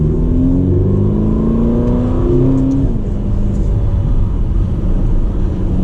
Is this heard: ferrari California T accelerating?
yes